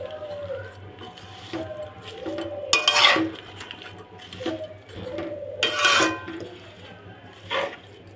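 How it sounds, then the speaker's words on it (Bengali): Vegetables are stirred with spice paste in a pan, with scraping and clattering of a utensil against metal in several bursts over a low steady hum, close and moderately loud. "এবার আমি এটাকে সুন্দর করে মিশিয়ে দেব।"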